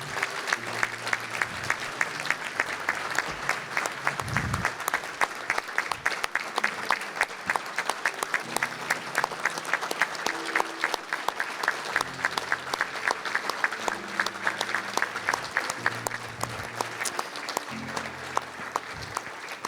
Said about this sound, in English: Miss Billy Jo, why don't you please stand so we can give you a round of applause.